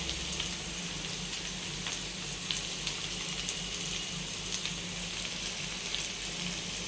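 Ivy gourd pieces frying in oil until browned, a soft, even sizzle crackling steadily at close range with scattered faint pops, no talking.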